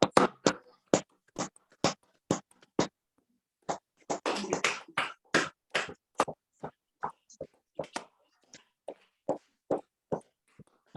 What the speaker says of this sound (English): put your hand like palm like this and clap it